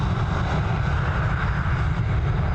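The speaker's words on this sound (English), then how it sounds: "it's still an Airbus A320" An Airbus A320 jet airliner at Dublin Airport gives off a constant, dense engine roar at close range, steady and unbroken for the whole stretch.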